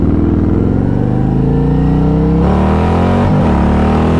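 A Harley-Davidson Road Glide accelerates hard, its engine note climbing steadily, then dropping briefly at a gear change before rising again, loud and close with heavy low rumble and no voices.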